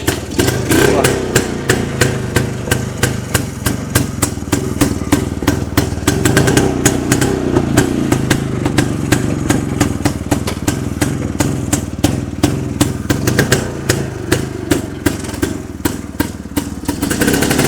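An old 250cc motorcycle with twin silencers running nearby, a loud rapid even exhaust beat thumping steadily throughout with slight rises in revs.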